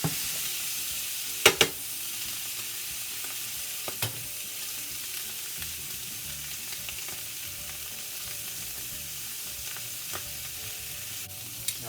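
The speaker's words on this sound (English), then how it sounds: "lay them down, and we're going to get a sear on one side" Pork chops sear in a hot pan with a steady broad sizzle throughout, a couple of sharp clatters near the start and a few lighter knocks later, with no talking.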